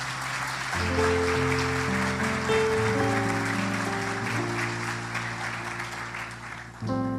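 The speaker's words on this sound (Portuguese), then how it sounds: "Uma salva de palmas." Congregation applause after a baptism at a church service, a steady wash of clapping that fills the room beneath sustained keyboard or organ chords, holding level before thinning out near the end.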